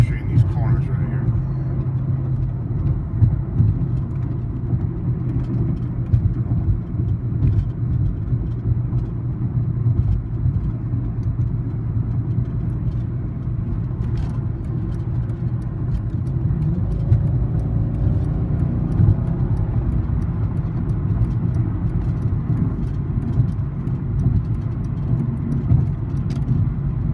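A 2006 Mercedes-Benz E55 AMG with a supercharged V8 pulls under partial throttle, a steady low engine rumble and road noise from inside the cabin, with someone talking over it.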